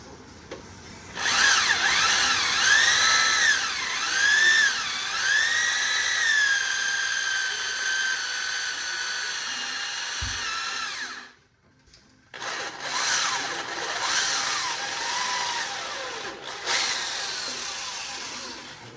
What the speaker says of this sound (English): I drilled the crank.